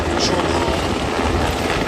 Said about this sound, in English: the helicopter flying around